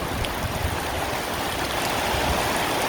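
Heavy spring rain shower pouring down outdoors near a fruit garden, a dense, steady, loud hiss of falling water with no pauses and no talk.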